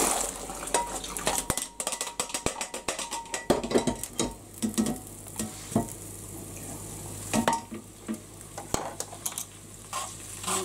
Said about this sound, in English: So then what we need to do is put the pasta into the bacon. And we're just gonna have to drain it.